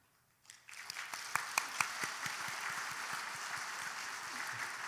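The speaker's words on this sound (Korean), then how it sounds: "잠시 자리에서 일어나실 때 환영의 박수 부탁드립니다." A church congregation at a Sunday service claps to welcome first-time visitors: clapping starts abruptly after a quiet moment, swells to a full, even roar with a few sharp close claps, and keeps going steadily.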